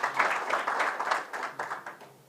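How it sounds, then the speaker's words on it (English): An audience claps for a sponsor at a gathering, a brief burst of fairly soft, uneven applause that tapers off toward the end. "Clap for him."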